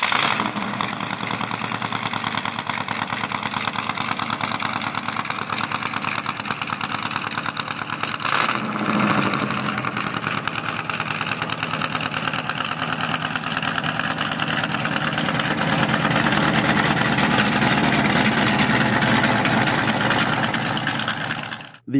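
A 1957 Ford Thunderbird V8 with eight cylinders feeding four exhaust pipes runs steadily, a loud, close, rumbling idle with a brief dip partway through before settling back.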